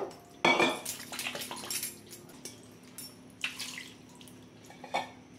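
Hands being rinsed under running water at a kitchen sink after rubbing banana blossom with tamarind and salt, with splashing and clinking of dishes, moderately close, no talking.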